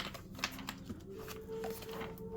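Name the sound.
tarot cards being shuffled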